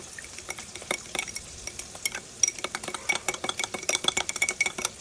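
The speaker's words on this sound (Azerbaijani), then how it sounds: "Biraz su əlavə edildikdən sonra qarışdırırıq." Tomato pasta sauce thinned with a little water is stirred in a pan, a spoon scraping and clicking against the metal in a steady, close, busy rhythm with no talking.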